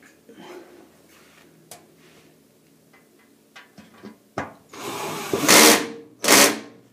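A power driver running screws back into a washing machine drain pump, giving a couple of short loud whirring bursts near the end after scattered clicks and handling noises.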